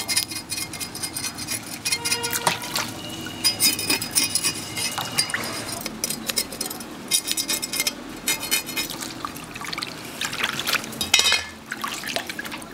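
Water runs and splashes as a fish is rinsed clean by hand, with irregular dripping, splashing bursts and faint clinks of a bowl or utensils, close and fairly loud throughout.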